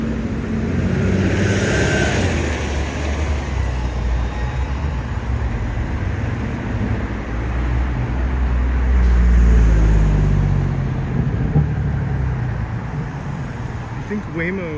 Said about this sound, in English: This is a noisy street to walk down.